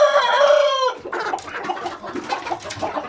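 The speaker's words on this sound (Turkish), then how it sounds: "Horoz yavrularıyla dövüşüyor demiştim." A rooster gives a loud, close crow, then several chickens cluck and chatter busily.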